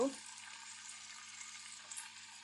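Food frying in oil in a pan, a faint, steady crackling sizzle heard close by, with a brief clatter at the start and no talking.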